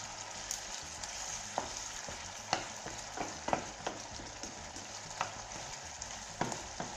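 Garlic shrimp with lemon juice sizzles steadily in a pan, with a bright frying hiss broken by scattered clicks and scrapes of stirring, close and alone.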